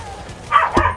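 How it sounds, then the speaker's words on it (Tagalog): Dogs barking in a first-person shooter game, two short bursts of yapping close together over a low game background, mixed with faint voices. "Daming aso."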